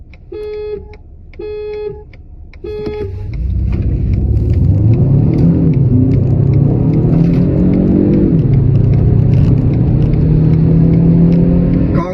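A 2021 Honda Civic 1.5 VTEC Turbo with a 182 hp CVT and a 2023 Renault Megane 1.3 TCe 140 hp accelerating side by side. Three short beeps come first, then a loud engine drone climbs steadily in pitch.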